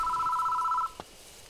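Telephone ringing in the horror video game Shiin, a steady electronic bell tone held for under a second, then cut off with a single soft click, alone and close.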